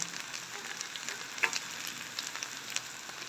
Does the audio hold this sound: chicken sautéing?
yes